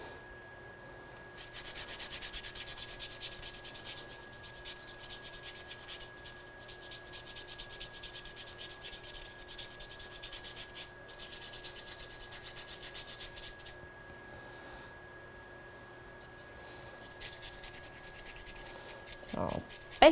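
A dry paintbrush scrubs back and forth on watercolour paper, producing a close, quiet, continuous rubbing and sanding hiss in long strokes with brief pauses and a sharp tap near the end.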